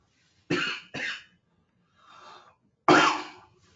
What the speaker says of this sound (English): I apologize for the coughing, guys.